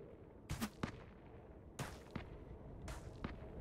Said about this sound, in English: Got some snipers going on over there.